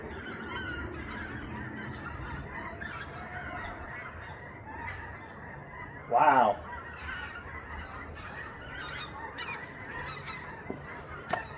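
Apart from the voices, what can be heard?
large flock of geese honking overhead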